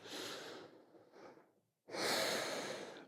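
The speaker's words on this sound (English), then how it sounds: "Big breath in. Big breath out." Slow, deep breaths during a yoga flow, a long airy inhale-like rush, a brief quiet pause, then a fuller, louder breath close to the listener, with no talking.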